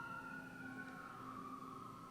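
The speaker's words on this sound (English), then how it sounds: "I apologize if you can hear the sirens in my neighborhood right now." An emergency vehicle siren wails through a residential neighborhood, a steady, fairly distant rising and falling tone that runs through the whole moment with no talking over it.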